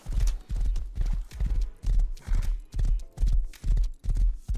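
Horse hooves clip-clop in the survival game Rust, a steady run of heavy, evenly paced thuds close by, each strike ringing slightly, with no talk over them.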